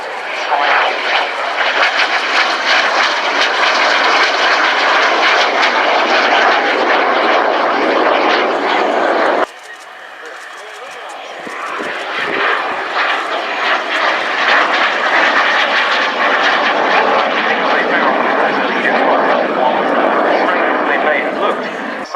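A Jet Provost jet trainer flying at an RAF Cosford airshow, a loud sustained engine roar that dips briefly midway and then builds again, heard beneath ongoing commentary.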